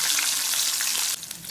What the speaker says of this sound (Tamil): கிஸ்மிஸ் நல்லா ஃப்ரை ஆகணும்.